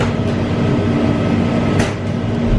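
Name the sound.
Jacksonville Skyway automated people mover train moving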